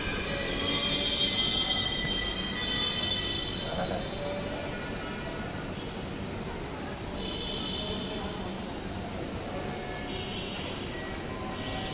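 A Dhaka Metro Rail train running at night gives a loud, steady rumble with rattling carriages and brief wheel squeals, while people talk nearby throughout.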